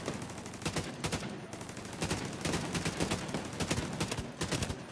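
Rapid automatic gunfire in The Division 2, tight bursts of shots in quick succession with brief pauses between volleys, sharp and fairly close.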